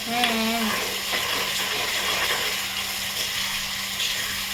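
Tomato masala sizzles loudly in a pan while a spoon stirs it continuously, with a brief voice at the start over the frying.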